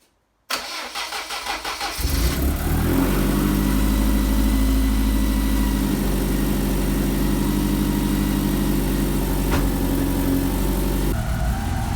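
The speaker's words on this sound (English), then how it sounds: "I'll turn the ignition on, give it a few seconds, build the fuel pressure up, and we'll see if it starts as it should." A Lancia Integrale Evo1 cold-starts after a brief cranking whir, then settles into a steady, loud, close idle with a deep, even engine rumble that holds for about nine seconds.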